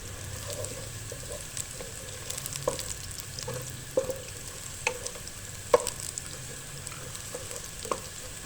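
Onion fries in a pan with cardamom and cinnamon pieces, a steady soft sizzle running throughout, broken by scattered clicks and scrapes of stirring.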